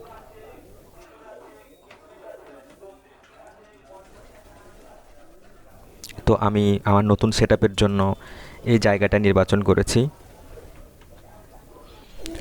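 A person talks quietly while pigeons in a loft coo loudly nearby in two throaty, rolling bursts, with soft bird chatter in the background.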